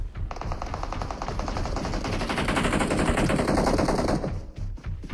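Rapid automatic gunfire in the battle royale game PUBG, a continuous loud burst of fast, evenly spaced shots lasting several seconds before tapering off.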